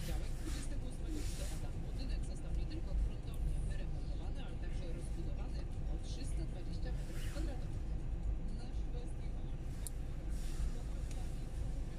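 Afternoon rush-hour car traffic on Ślężna Street in Wrocław, a steady broadband road rumble of passing vehicles heard from inside a moving car, with a few brief swells but no clear single passes.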